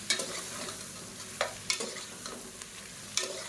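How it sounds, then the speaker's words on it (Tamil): Mushrooms sizzle as they sauté in a hot pan while a utensil scrapes and stirs, with sharp clacks at irregular intervals over the steady frying hiss. "இப்போ இந்த மஷ்ரூம் நல்லா வதக்கி விட்டுக்கலாம்."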